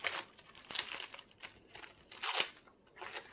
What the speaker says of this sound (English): Just get all this tape off.